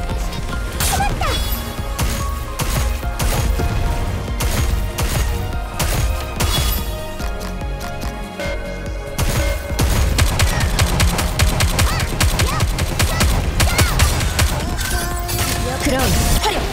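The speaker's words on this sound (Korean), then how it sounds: "그럼 화력 집중! 전방의 적기에 일제 사격!" Volley gunfire in the video game Goddess of Victory: Nikke rattles out in dense, loud bursts over game music, with character voices heard between the shots.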